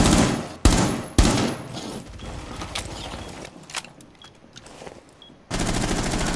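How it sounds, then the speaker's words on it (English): Gunfire in Rainbow Six Siege, two sharp close shots followed by sparse rattling bursts and clicks, then a sudden loud sustained burst of automatic fire. "They're shooting through here, Corp."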